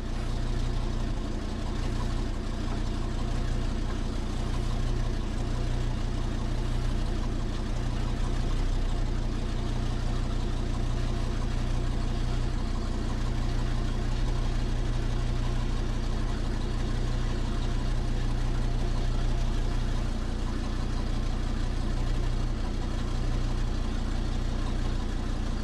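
An engine idles at about 500 RPM on wood gas from a gasifier, with no gasoline: a steady, low, droning rumble that runs unchanged and even from start to finish, close by with no voices.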